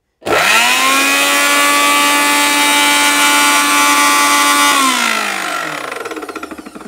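Miyako electric blender mixer grinder switching on and running at high speed, a loud steady motor whine that holds, then winds down as it is switched off.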